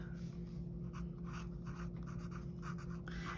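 Pen writing on paper while making a holiday nugget box, a quiet run of short scratchy strokes in a loose rhythm, close and soft against a faint steady hum.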